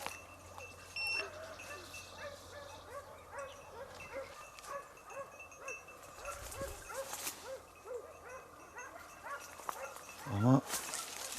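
A hunting dog barks and yips repeatedly in a rapid, rhythmic series, somewhat distant, during a wild boar hunt in a forest, with outdoor background noise and a brief louder sound near the end.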